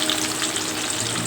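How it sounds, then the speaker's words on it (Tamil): Green mango pieces fry in hot oil with popped mustard seeds for mango pachadi. A brief, close, continuous crackling sizzle plays with no voices. "கடுகு பொரிஞ்சதுக்கப்புறம் மாங்காய் போடுறோங்க."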